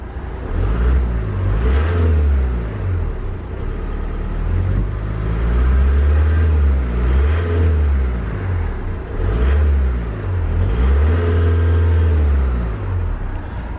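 A 2012 Volkswagen Passat Alltrack 2.0 TDI diesel engine, limited to 2,500 RPM, is revved repeatedly while parked. Each loud, close rev climbs and falls back to a rumbling idle, with no talking.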